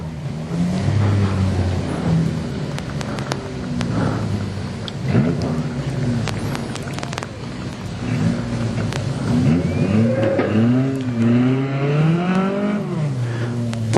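A junior sedan race car takes a lap of honour at Gympie Speedway, its engine revving and rising and falling in pitch as it circles, loud and continuous, with a public-address announcer talking over it.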